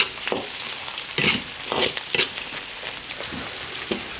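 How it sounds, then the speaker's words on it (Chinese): Pork stir-frying in lard in an iron wok with fermented black beans and garlic, a loud continuous sizzle broken by repeated scraping tosses of the spatula, no talking. "把肉炒一下。 猪油炒出来了，放点老豆豉， 大蒜来一点。"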